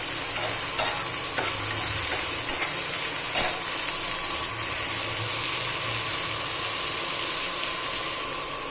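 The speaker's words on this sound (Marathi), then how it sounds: "आता हा चांगला कांदा व्यवस्थित फ्राय होऊन द्यायचा आहे." Chopped onion frying in a pan for a masala pav breakfast dish gives a steady, close sizzle with soft scraping stirs through it and no one speaking.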